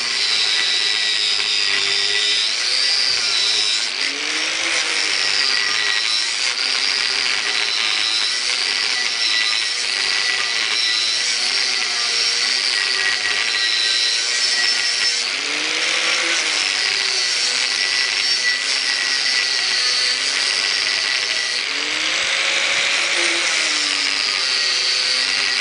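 A metal pipe being cut with a saw or power tool, a steady continuous grinding rasp that holds for the whole stretch with slight rhythmic swells, loud and close, with no talking.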